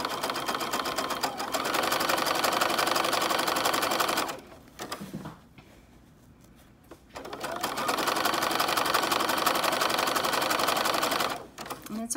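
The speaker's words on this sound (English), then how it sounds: "it's just a tip that that helps me sew straight lines" A sewing machine stitches along skirt fabric in two long, steady runs of rapid mechanical chatter, loud and close, broken by a pause of about three seconds before the motor starts again.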